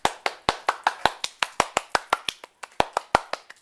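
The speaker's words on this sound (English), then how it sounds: "Give her a clap." Close, crisp hand clapping for a student presenter, sharp separate claps in a quick, fairly even rhythm with a brief gap near the end, likely one or two people nearby rather than a large crowd.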